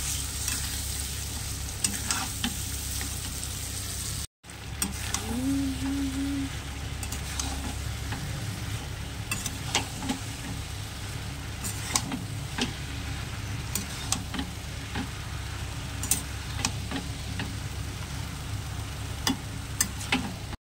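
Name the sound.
sautéing spice masala with prawns in pan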